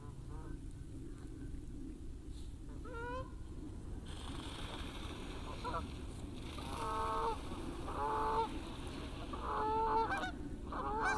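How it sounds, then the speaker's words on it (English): Geese honk in short bursts at a waterside winter fishing spot, with a few calls early on and then a louder, busier run of honking toward the end over steady outdoor background noise. "excuse the geese"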